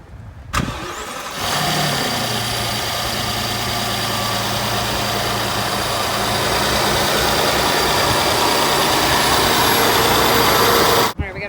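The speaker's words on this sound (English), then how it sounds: "Alright, we got a V12 engine here." A Rolls-Royce Ghost V12 engine fires up after a brief starter whir, then settles into a smooth, steady idle hum with a faint high whine, running evenly before cutting off abruptly at the end; a voice is heard briefly.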